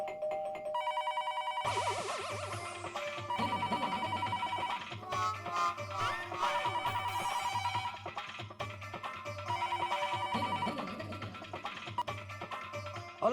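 A home doorbell rings over and over, its bright electronic chime repeating steadily and close by for the whole stretch, with no one speaking.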